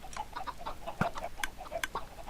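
Chickens cluck in the video game Minecraft Skyblock, a string of short, clipped calls repeating at an irregular pace, with one louder squawk partway through, and no talk.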